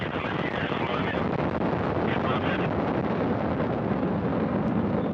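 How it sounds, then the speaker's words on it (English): Steady, broad roar of a Soyuz rocket lifting off from Baikonur with a Progress resupply vehicle bound for the International Space Station, heard as an unbroken rumbling wash with wind-like buffeting, constant in level and without distinct bursts. "We have liftoff of the 65th Progress resupply vehicle, beginning a 2-day journey to the International Space Station."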